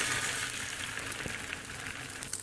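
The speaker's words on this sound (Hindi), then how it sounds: "इस तरह मैं सारे डिप करती जाऊंगी और सारे तलती जाऊंगी" Steady crackling sizzle of bread slices frying in hot ghee, continuous and fairly quiet, with no voices.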